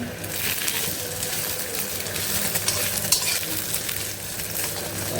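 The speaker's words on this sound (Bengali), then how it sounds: "উঠছি ডিম ভাজতেছি" Eggs frying in a home kitchen pan, giving a constant close sizzle and crackle with a dense, even hiss that holds steady with no voices.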